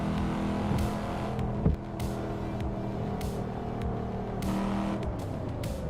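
A car in a Volvo driving simulator game revs and accelerates with traction control off, a steady engine drone with several rising gear pulls and a brief thump, with no talk.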